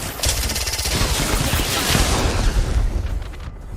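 Rapid, dense video game gunfire blasts loud and continuous while a squad fires on a target, with heavy booming bursts throughout.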